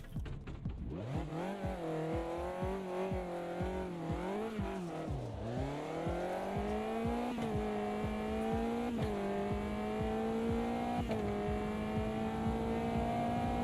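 A GT4 Mercedes race car in a sim racing game at Alton Park revs loudly and continuously, with the engine note rising and falling through gear changes as it accelerates and brakes, with no talk over it.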